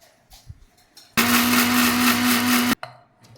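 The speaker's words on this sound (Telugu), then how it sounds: "ఫస్ట్ ఇది సాల్ట్ వేసుకొని నూగులు, ధనియాలు, ఒట్టిమిరపకాయలు గ్రైండ్ చేసుకుందాం." A mixer grinder loud and close, grinding salt, sesame seeds, coriander seeds and dried chillies for gongura chutney: one steady whirring burst of about a second and a half with a hum underneath, then stopping abruptly, with quiet kitchen sounds before and after.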